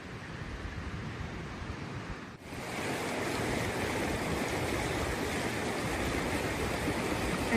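Bow River rushing at Bow Falls in Banff, Alberta, a steady loud broadband roar of churning water that continues unbroken, apart from a brief dip, with no voices.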